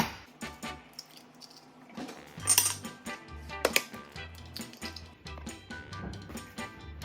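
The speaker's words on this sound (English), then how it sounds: "Then we're gonna go ahead and crack our eggs in there." Eggs cracked into a bowl of pie crust dough with salt already added, giving a few sharp, close clicks and taps against the bowl among quiet kitchen handling noises.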